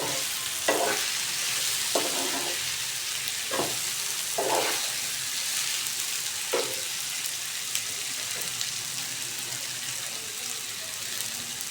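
Raw green banana pieces, mixed with salt and chili, fry in a pan with onion and tomato for a Karnataka-style palya, a steady soft sizzle broken by several scraping stirs of a spoon.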